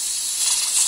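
A pressure cooker cooking beans vents a steady, loud steam hiss that swells slightly midway, heard close and alone with no talk.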